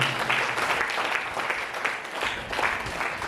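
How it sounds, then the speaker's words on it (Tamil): Congregation at St. Thomas Shrine in Malaiyadipatty breaks into steady, dense applause for food donors, a continuous wash of many hands clapping that fills the room without pause. "இவர்களுக்கு நம்ம கரவொலி எழுப்பி பாராட்டுகளை தெரிவிப்போம்"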